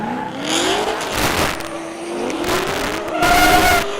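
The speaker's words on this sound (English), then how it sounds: "Here we go, a little burnout by Simon." A car does a burnout at a grassroots drifting competition, its engine revving loud and close with squealing, skidding tires rising and falling in bursts.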